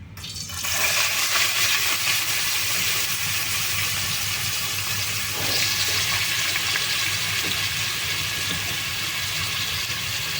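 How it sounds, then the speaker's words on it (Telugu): Onions sizzling as they go into hot oil in a pot for a prawn curry, a steady loud hiss that swells at the start and then holds evenly throughout. "నూనె కాగిపోయిందండి ఉల్లిపాయలు వేసుకుందాం"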